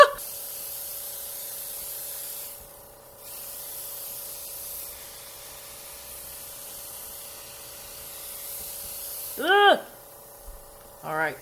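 Makeup airbrush spraying in steady hissing bursts with short pauses between them, a soft, close, continuous spray that ends with a brief voice near the finish.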